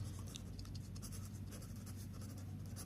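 A pen scratching across paper as math steps are written out, a continuous close scratching that runs throughout with no talk.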